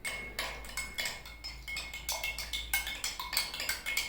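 Oil, water and dishwashing liquid shaken together in a container, producing rhythmic bursts of sloshing and clattering, about two per second, close by and with no talk.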